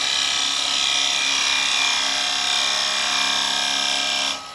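A woodturning chisel cuts beads on a pendant spinning on a lathe, giving a steady, close, hissing scrape that holds for about four seconds and then stops abruptly.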